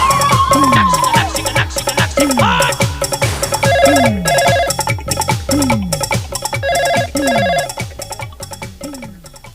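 A telephone rings repeatedly in a comedy sketch, an electronic warbling ring tone repeating in steady bursts, loud and close throughout with no talk over it.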